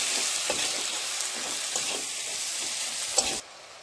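Ground coriander, cumin and red chilli powder sizzle and hiss steadily in a kadai as they are stirred and fried for a catla fish head curry, with soft scraping strokes before the sound cuts off abruptly.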